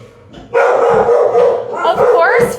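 Dog named Lucy barking loudly indoors, a few sharp close barks and yips with a person talking over them.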